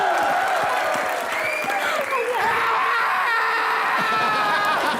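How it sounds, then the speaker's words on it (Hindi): A studio audience at a comedy show claps and cheers for an award announcement, loud sustained applause mixed with whoops, laughter and overlapping voices. "जोरदार तालियां।"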